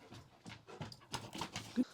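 A puppy pants and whimpers for a treat, quiet and close, with short breathy bursts and small whines.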